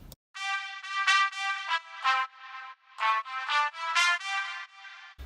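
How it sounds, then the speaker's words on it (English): Short staccato notes from a brass ensemble sample preset in Kontakt play a quick rhythmic phrase of bright, punchy stabs with clear gaps between them, loud and alone. "This one is the brass ensemble preset in contact, and I use the staccato articulation"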